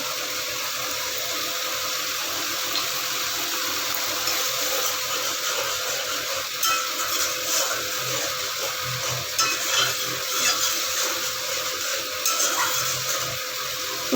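A spoon stirs a vegetarian pointed gourd curry in a pan just after tomato sauce goes in, giving steady close scraping and a soft, continuous sizzle with no talking.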